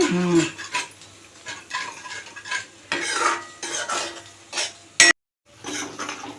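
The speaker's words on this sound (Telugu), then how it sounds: "తిప్పుతూనే ఉండాలి తిప్పుతూనే ఉండాలి" A spoon stirring potato masala curry in a pan, with repeated scraping strokes and a soft sizzle underneath, close and moderately loud, broken by a brief sharp clink and a short silence near the end.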